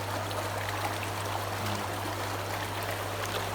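Fast water rushes through a biotope aquarium in a steady, dense hiss, with a constant low pump hum beneath it, close and unbroken.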